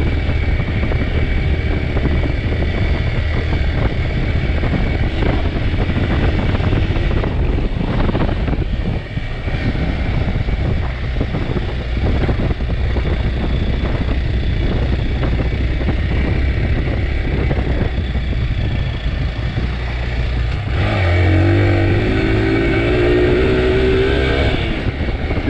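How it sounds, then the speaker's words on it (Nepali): A dirt bike engine drones steadily while riding a dirt track, a loud continuous motor roar with rumbling and wind, and the pitch rises briefly near the end. "डर्ट बाइक भनेकै यही हो, यस्तो हुन्छ नि यस्तै डर्टमै दौडाउने"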